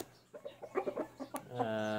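Quiet, broken clucks from prize-winning roosters of a good breeding line come in a short irregular series, a brief sharp click cutting in near the end before a steadier, fuller call takes over.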